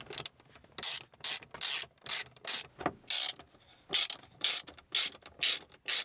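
A ratchet wrench clicks in quick, close bursts, loosening 10 millimeter plastic nuts from the strut tabs of a BMW E34 during a strut replacement, with short pauses between each run of ratcheting.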